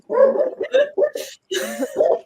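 A small dog barks in a home, a close burst of about five hoarse, sharp barks with a short pause partway through.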